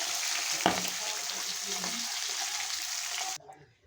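A katla fish head frying in hot oil: a close, continuous sizzle with one bump early on, stopping abruptly near the end and leaving a quiet tail.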